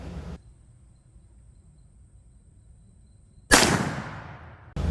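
A single loud, sharp black powder muzzleloader rifle shot cracks out after a few seconds of near silence with faint insect chirping, then rolls off in a long decaying boom outdoors.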